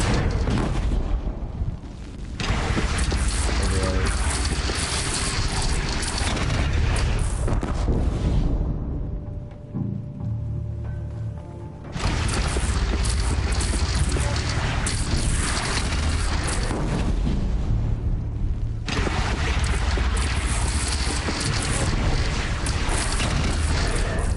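In Horizon Zero Dawn, a bridge collapses and explodes in long, loud roaring blasts and rumbling debris, two big waves of destruction separated by a brief quieter lull.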